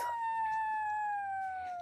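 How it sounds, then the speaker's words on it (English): A wolf howls in one long, steady, slowly falling tone that carries clearly and evenly from start to finish, with nothing else heard over it. "Oh yes, that is the sound of my friend the wolf."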